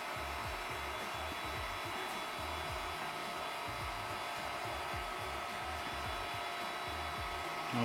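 A steady mechanical whir and hum of a Magma 250 3D printer running auto-leveling, with faint rhythmic low motor pulses repeating throughout, no voices.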